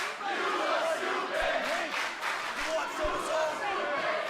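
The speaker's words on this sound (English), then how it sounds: "they're chanting at Enzo Amore." A wrestling crowd at Full Sail chants loudly and steadily at a wrestler during an NXT tag match, a dense, rhythmic roar of many voices filling the clip with occasional thumps.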